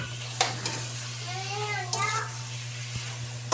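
Lemongrass goes into a pot of chicken pieces frying for tinola. A steady, close sizzle carries on throughout, with a few clinks and stirring sounds and faint voices in the background.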